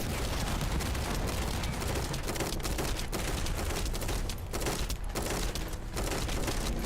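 Video game gunfire aimed at glowing targets, a dense continuous rattle of rapid shots with booming bursts, steady and loud throughout.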